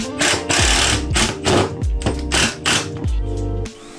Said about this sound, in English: I'm using a 1/2 inch router because there's a lot of material to shift out of the way.